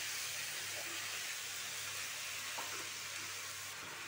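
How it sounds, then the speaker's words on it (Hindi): Cut eggplant frying in mustard oil in a pan for a spicy potato and eggplant curry, giving a steady, even sizzling hiss that continues without a break, close by with no voices. "अब मैं इसमें बैंगन डाल दूंगी जो मैंने इस तरह से काट करके रखा था।"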